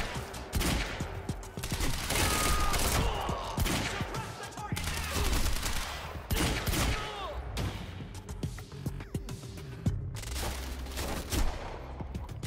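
Gunfire in the video game Quantum Break: dense bursts of rapid shots and impacts, loud and continuous with brief lulls, with occasional voices mixed in.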